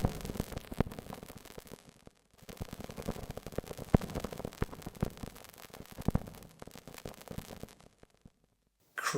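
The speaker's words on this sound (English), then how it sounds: "crackling things." Synthetic crackling: dense, noisy static with sharp pops and clicks, fairly quiet, broken by a couple of brief silent gaps.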